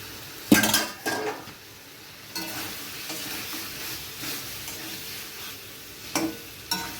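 Potatoes and tomatoes simmer in a covered pan. The lid lifts with a sharp metallic clank, then the pan gives off a soft, steady bubbling hiss, with a few more utensil clinks near the end.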